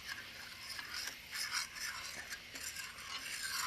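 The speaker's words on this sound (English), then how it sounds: "I'm going to stir that up, try to get it all liquefied" Mushroom liquid stirred in a skillet, a steady soft scraping and rubbing with small irregular swells, close and fairly quiet, without talk.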